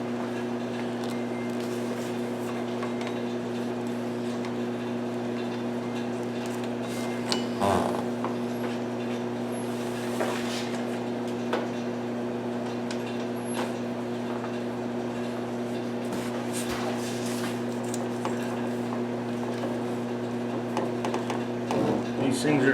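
Vacuum pump evacuating the AC system of a 1998 GMC truck runs as a steady, loud mechanical drone with a constant low hum, broken by a few brief clanks and rattles nearby.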